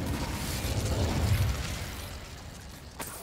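A fire spell cast in Hogwarts Legacy bursts with a broad whooshing roar that swells over about a second and a half, then fades, with a small pop near the end.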